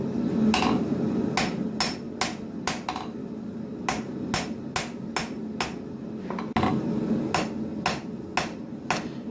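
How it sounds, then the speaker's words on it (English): A straight peen hammer pounds hot steel while forging a full tang knife handle, tapering and curving it: a steady series of sharp, ringing metal strikes, roughly one per second, close and loud over a low background rumble. "now I've moved on to the straight peen hammer"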